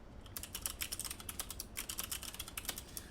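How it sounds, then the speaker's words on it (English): Fast, crisp typing on clicky mechanical keyboard switches, a dense rapid patter of sharp key clicks near the microphone, steady and fairly quiet, with no voices. "They are the best clicky switches on the market."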